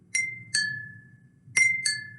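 Two drinking glasses struck together four times, each a bright, ringing clink that fades slowly, alternating between two pitches like a doorbell chime, close and alone in a quiet room.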